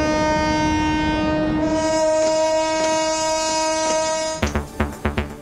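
A train in Bangladesh during Eid holiday travel sounds a long, loud, steady horn, then heavy wheels clatter rhythmically over the rails in quick knocks as the horn cuts off.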